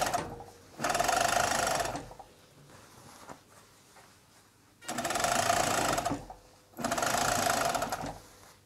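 An overlocker (serger) sews the side seam of a vest (undershirt) in three loud, steady whirring runs, each lasting one to two seconds, separated by quieter pauses with faint handling noise.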